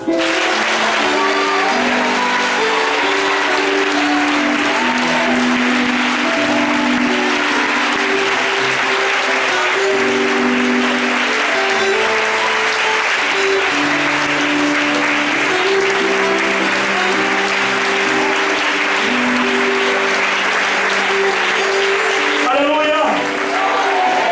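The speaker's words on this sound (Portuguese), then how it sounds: "Eu gostaria que você aplaudisse o Senhor." Congregation applauding during a Brazilian family church service, sustained clapping blended with voices, shouting and musical tones that run throughout at high volume.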